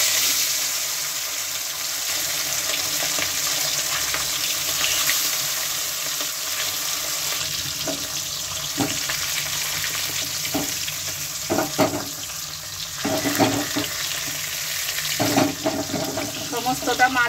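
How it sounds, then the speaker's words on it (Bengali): Fish frying in hot oil in a kadai for a Bengali fish curry, a steady close sizzle and hiss running throughout, broken by several sharper clatters and stirring knocks toward the end. "এখন মাছগুলিকে একটু ভেজে নেব।"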